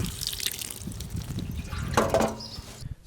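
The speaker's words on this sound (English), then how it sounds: "give the plant a good watering to water it into position" Water poured onto a newly planted viola in garden soil, a close, moderately faint splashing trickle with scattered drips, swelling into a brief stronger gush near the end.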